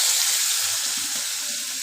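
Potatoes go into hot oil with black cumin seeds and fry with a loud, steady, broadband sizzle that fades slightly over a couple of seconds.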